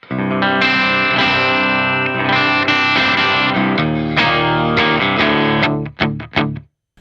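Electric guitar on an amp's clean channel through an Electro-Harmonix LPB3 boost pedal, sustained chords and picked notes ringing loud, ending in a few choppy strums, with no speech.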